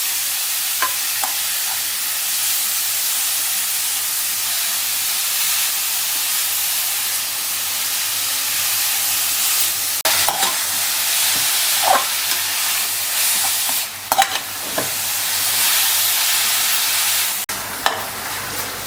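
Grated beetroot sautéing in ghee for halwa gives a loud, steady hissing sizzle, broken by a few scraping stirs and crackles, heard close and without any voices.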